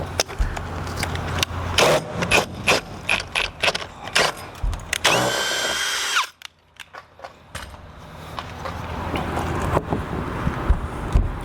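A power drill bites through the aluminum wall of a truck camper in short, loud bursts with a sustained whine midway, close to the microphone amid scraping and handling noise.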